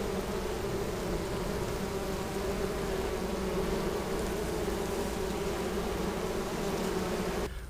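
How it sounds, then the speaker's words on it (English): Swarm of honey bees buzzing around a box in June, a continuous droning hum close by, steady and moderately loud without any talk. "Now, I'm getting buzzed already, but normally these bees down here are not bad."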